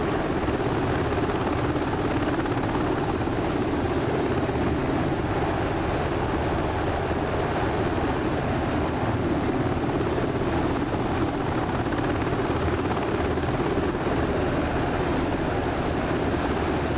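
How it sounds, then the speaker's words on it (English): A helicopter flies at the Henderson Air Fest, its rotors and engine making a loud, steady, unbroken roar throughout, with no voices. "this daring moment requires the helicopter to enter an area contested by enemy troops"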